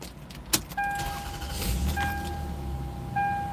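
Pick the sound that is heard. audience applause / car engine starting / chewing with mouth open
car engine starting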